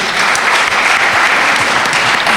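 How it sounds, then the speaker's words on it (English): Steady, dense applause from an audience at a community presentation event on Taíno survival and identity, continuous and fairly loud throughout with no break. "let's give a warm applause also to Enoch for his excellent job this evening"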